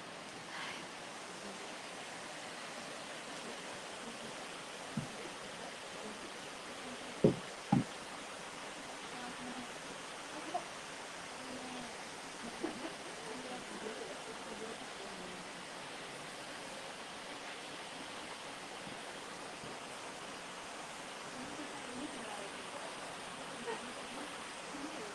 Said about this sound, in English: Now you can hear the sound of river.